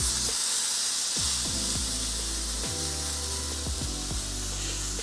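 Steady, loud sizzling of pork chops searing in a hot pan, with occasional knocks and scrapes cutting through the continuous crackle.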